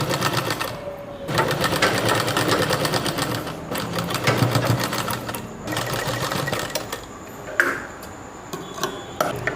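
A sewing machine stitching along the edge of a baby pyjama runs in loud, close, rapid bursts with brief pauses between runs and a few mechanical clicks, with no talking.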